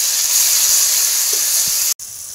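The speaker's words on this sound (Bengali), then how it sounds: "এবার দিয়ে দিতে হবে কয়েকটা টমেটো কুচি" Chopped medium tomato drops into a pan of hot spices, giving a loud, steady sizzle and hiss of frying that breaks off for an instant and then resumes.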